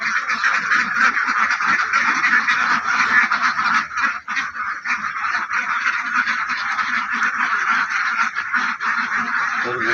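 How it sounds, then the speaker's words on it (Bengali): A crowded flock on a duck farm keeps up loud, continuous quacking and honking at close range, with overlapping calls throughout. "এখন আমরা সরাসরি চলে যাব হাঁসের খামারে, কিভাবে প্রয়োগ করে সেটা দেখানোর চেষ্টা করব।"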